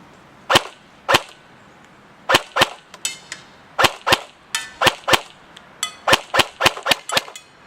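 Airsoft XM8 LPEG conversion rifle firing at a target 125 feet away: a string of sharp, loud snaps, first spaced singly, then in quicker irregular bursts, with no talking.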